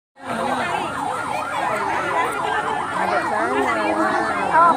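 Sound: ambulance siren

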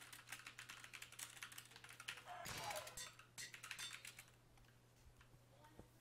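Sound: computer keyboard typing

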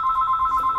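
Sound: telephone ringing in workshop

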